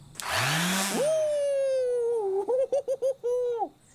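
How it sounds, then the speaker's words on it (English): An electric sander on a table being restored whirs loudly up to a steady, high motor whine, then stutters through several short on-off bursts near the end. "This will be my first time using a sander."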